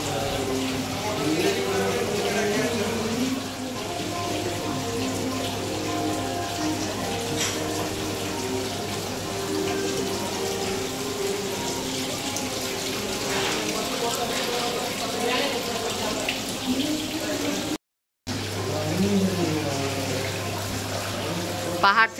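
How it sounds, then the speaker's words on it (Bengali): Water pouring down a hillside and splashing, a steady broadband rush with a constant low hum underneath, continuous and fairly close, with one brief dropout near the end. "এখানে পাহাড় থেকে জল পড়ছে। দেখো জল ছেটকাচ্ছে"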